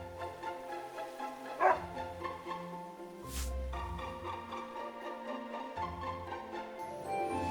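A dog named Princess in Another Code: Recollection gives a single short bark near the start, set against soft background music with a low thump partway through.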